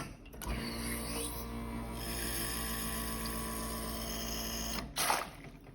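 Bezzera Aria espresso machine running at high pressure, a steady mechanical hum and hiss of water streaming from the overpressure valve, with a brief clunk at the start and another near the end.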